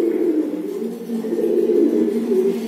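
A pair of new adult black English Barb pigeons, male and female, coo steadily and close by in a low, continuous throaty murmur with no other sound.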